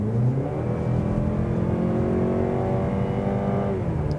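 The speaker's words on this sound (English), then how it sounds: "I did hear more of the engine noise with that." A 2024 Mazda CX-30 2.5-litre AWD engine in sport mode revs up steadily, its rising drone loud and close, accelerating continuously without any voices.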